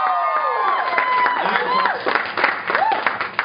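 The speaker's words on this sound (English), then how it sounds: "Round of applause." Audience at a Houston comedy club clapping and cheering, with whoops and shouted voices rising over a lively, loud burst of applause.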